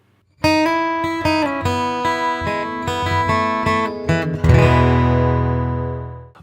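Electric guitar plays the opening lick of a song intro, a quick run of clear picked notes beginning with a small slide and ending on a ringing chord that sustains and fades, loud and alone.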